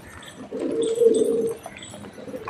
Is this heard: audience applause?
no